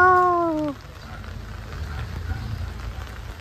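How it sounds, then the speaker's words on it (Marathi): Heavy rain pours outdoors during a temple visit in Dahanu, a steady, dense hiss of drops that fills the background after a brief tonal vocal sound at the very start. "जोरात आला पाऊस"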